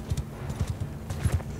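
Horses galloping in the Mount & Blade 2: Bannerlord video game, with rapid, close hoofbeats thudding in quick clusters against a low battlefield rumble.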